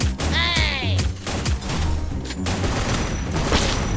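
Bursts of gunfire in a shooting video game, sharp cracks and rattling volleys with a whistling effect early on, close and loud throughout.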